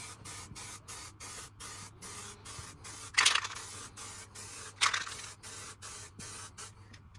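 A spray paint rattle can hisses in a long series of short, regular bursts as it coats a Harley Benton DIY guitar kit body, with two louder scraping clicks midway; no one speaks.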